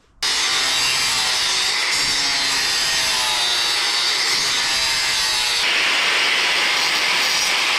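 A part for an abused dirt bike is trimmed off with a power cutting tool. The cut is a loud, continuous, harsh rasping grind that starts abruptly and holds steady for several seconds, close up and with no talk.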